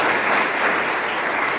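Brief, steady audience applause welcoming a contestant on a school show stage, lasting under two seconds.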